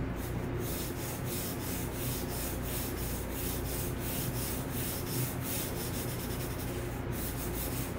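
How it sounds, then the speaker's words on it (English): A pencil shades a large, even area of a drawing on paper in a close, steady scratchy rubbing, with strokes repeating in a continuous rhythm and no voices. "I'll finish shading this box"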